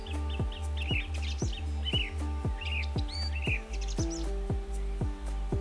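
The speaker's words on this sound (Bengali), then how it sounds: "ফিঙে পাখি একটি সাধারণ পাখি, যেটি আপনারা প্রায় সব জায়গাতে দেখতে পাবেন।" Black drongo calls ring out as a steady series of sharp, bright chirps and whistles over a loud, continuous droning hum underneath.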